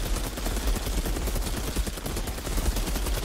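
Dense, continuous gunfire in a video game firefight with snipers and incendiary rounds, loud overlapping shots and impacts forming a constant rumbling barrage with no clear gaps.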